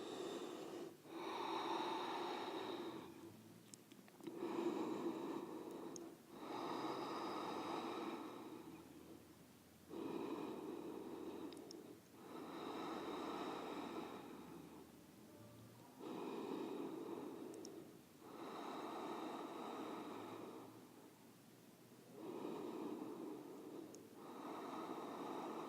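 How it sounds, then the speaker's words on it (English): Slow, deep breaths during a yoga pose, with about six long inhale-exhale cycles that are evenly spaced and close to the mic, heard alone. "Take 5 nice long deep breaths here."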